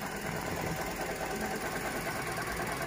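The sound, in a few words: strange noise from Toyota Grand New Avanza 1NR-VE engine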